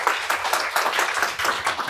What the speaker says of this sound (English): Please give a round of applause for the next panel.